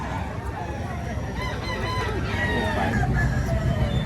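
A Grey Hatch gamefowl rooster crows and clucks against a murmur of people talking at an outdoor sale, with the calls standing out moderately loud over the babble.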